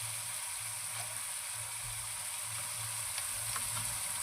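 Ginger and garlic paste fry for a crab dish, a steady close sizzle with scraping stirring strokes repeating underneath, and no talk.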